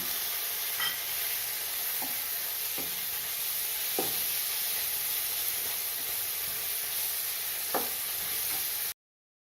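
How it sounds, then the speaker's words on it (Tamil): Chopped tomato tossed into softened onions in a hot pan for a spicy egg pepper gravy gives a steady oily sizzle, with a few sharp spoon taps against the pan now and then. No voices. "இப்போ ஒரு தக்காளி கட் பண்ணி வச்சுருக்கேன் அதை சேர்த்துக்கிறேன்"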